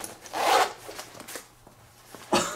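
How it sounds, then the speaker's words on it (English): A large zipper on a tactical backpack is pulled open in a few rasping strokes, one long close pull followed by shorter tugs and a final quick zip. "there's a huge zipper. It unzips the whole way around."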